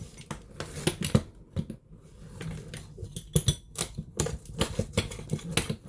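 A pizza cutter slicing open the cardboard of a delivered stick vacuum cleaner box, with close, irregular scraping and crackling cuts and sharp rustles in quick bursts.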